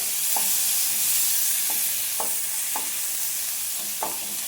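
Green chillies and ginger frying in oil in a pan, a steady loud sizzle with a few soft stirring scrapes at intervals, no voices.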